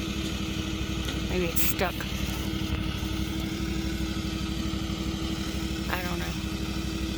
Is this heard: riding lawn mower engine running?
yes